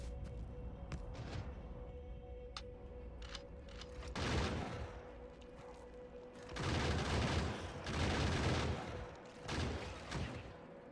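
Faint turret gunfire in Factorio, sparse early shots giving way to sustained rattling bursts in several distinct waves, fairly quiet over a low steady hum.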